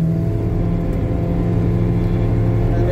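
A BMW car drives a steady warm-up lap at the Algarve race circuit, its engine a constant close droning hum without strong revving, no talk over it.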